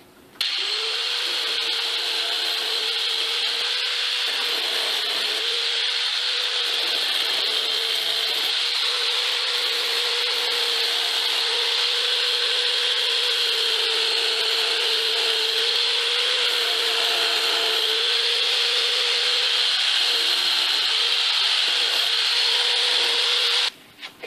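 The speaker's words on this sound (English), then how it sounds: "I'm going to take all these rough edges off real quick with my flap wheel," A handheld grinder with a flap wheel runs nonstop on a dagger blank clamped in a vise, taking off rough edges with a loud, steady, close abrasive whine and no talking.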